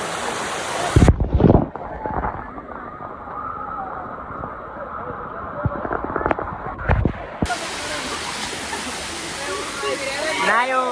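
Loud rushing rain like a heavy downpour in the hills at Kadamgiri, with bursts of splashing and buffeting, while voices call out over it.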